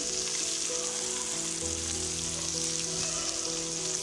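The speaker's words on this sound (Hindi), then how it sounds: "अब इसमें हम प्याज फ्राई करेंगे" Onions frying in a pan for achari eggplant, a steady, even sizzle with a soft crackle that holds level and close for the whole stretch, with no voices over it.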